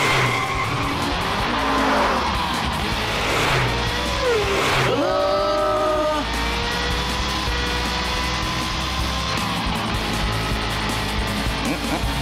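A cartoon car reversing and skidding, loud screeching tire squeals with sweeping pitch glides over a continuous roaring engine, sustained for several seconds in an animated chase scene.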